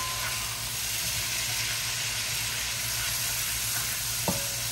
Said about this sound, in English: And those shrimp are cooking nicely.